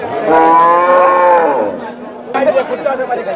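Cattle at a bull market in Nilphamari, one long loud close moo followed by a shorter lowing call, with crowd chatter and bargaining voices around.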